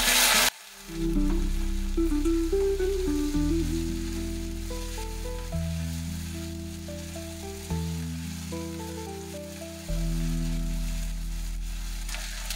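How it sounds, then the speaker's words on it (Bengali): Ginger garlic paste frying with onions in a pan for chicken kosha, a steady close sizzle that runs the whole time under a layer of sustained tones. "তো আমার আদা রসুনটা ভাজা ভাজা হয়ে গেছে।"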